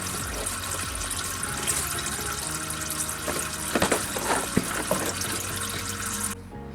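ZF 8HP transmission fluid from a Jeep Grand Cherokee drains in a steady, continuous splashing pour into a pan, with a few clinks and a sudden stop near the end.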